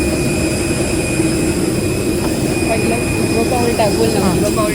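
A jet airliner's engines roar steadily and loudly at close range during boarding for a first flight, a dense continuous drone with a thin high whine, while people talk over it.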